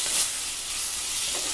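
Tomatoes with salt sauté in a pan for rasam, a steady bright hiss of sizzling that stays close and even throughout, with no talking.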